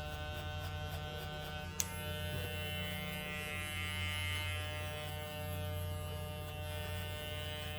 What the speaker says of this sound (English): So it is actually very powerful clipper, you know.